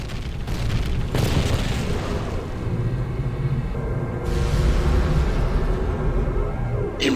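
In the Ground Control 2 video game, an anti-orbital cannon is bombed and blows up in a deep, booming explosion with rolling rumble and crackling debris that carries on for several seconds, loud and close.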